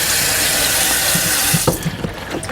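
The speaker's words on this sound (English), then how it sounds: "we'll turn the water on, run some cold water, and we're going to drain our potatoes" Cold tap water runs hard into a kitchen sink as boiled potatoes are drained, a steady loud gush that cuts off near the end into a few faint drips and clinks.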